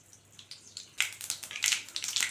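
Mustard seeds and fenugreek spluttering in hot oil for a Tamil okra kuzhambu, close and crackly, with a quiet patch before a dense run of sharp pops and sizzles sets in about a second later.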